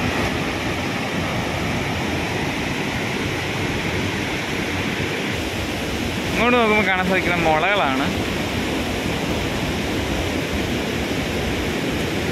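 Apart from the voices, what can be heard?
waterfall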